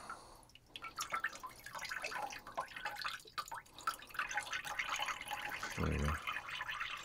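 Evapo-Rust rust-remover liquid drips and trickles as a soaked metal part drains over a bin, a quiet run of close, irregular droplets with a brief low splash near the end.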